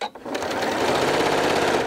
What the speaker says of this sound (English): it's time for a new needle in my sewing machine as well